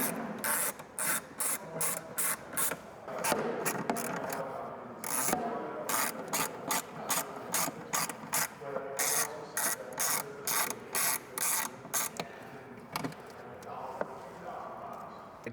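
A ratchet fitted with a Torx 40 bit clicks in rapid repeated strokes while backing out screws that hold the support net inside a motorcycle saddlebag. The ratcheting is close and loud, with short pauses between runs and no speech.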